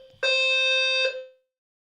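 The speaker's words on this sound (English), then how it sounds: "I cannot with this alarm." A loud, steady electronic alarm tone sounds alone for about a second, then stops abruptly.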